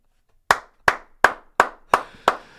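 One person claps six slow, evenly spaced times, each clap sharp and close, after a moment of near silence, with no voices.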